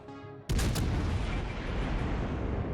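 Big naval guns boom from a warship firing on battleships in World of Warships Legends. A sudden loud salvo hits and then rolls into a long, dense rumbling roar that carries on to the end.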